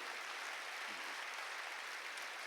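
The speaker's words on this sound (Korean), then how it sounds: "박수로 영광을 돌리시고" A church congregation applauds steadily during a sermon, the clapping blending into a uniform wash that stays faint and somewhat distant for the whole stretch, with no voices standing out.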